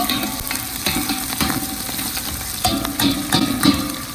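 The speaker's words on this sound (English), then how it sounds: "We have green onions that we're stir frying in here, guys." Steady sizzling from garlic and green onions stir-frying in a hot pan, with scraping and clinking from a utensil stirring repeatedly, close and continuous.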